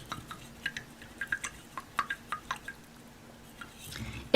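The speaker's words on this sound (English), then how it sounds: "you can mix it with a paintbrush." A paintbrush stirs homemade cornstarch-and-water paint in a small container, giving about a dozen light, wet taps and clicks that come close together, then pause, with no talking.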